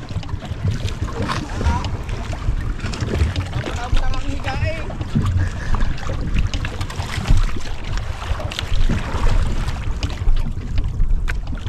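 A small fishing boat's engine runs at sea off Quezon, a steady, close drone mixed with wind buffeting the microphone, with faint voices in the background.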